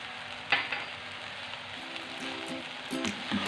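Egg fried rice seasoned with salt and black pepper is stirred and tossed in a hot pan, giving a steady close sizzle broken by occasional scrapes and clinks of the spatula, with no talking.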